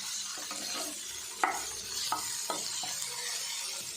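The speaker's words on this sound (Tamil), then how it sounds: "தக்காளி இதை கூட சேர்த்து நல்லா மிக்ஸ் பண்ணிடுவோம்." Small chopped tomatoes stirred into a hot pan for tomato chutney, a steady bright sizzle with several short spoon scrapes and taps against the pan, close and fairly quiet.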